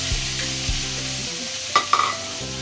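Squid adobo sizzles and is stirred in a pan as its sauce thickens, a soft steady bubbling under a hum, with a couple of sharp utensil scrapes and knocks near the end and no voices.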